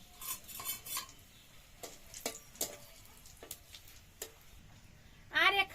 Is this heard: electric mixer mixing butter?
no